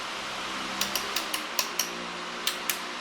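An electric fan whirs steadily in a humid room, a soft broadband hiss running throughout, with a few light clicks and taps over it.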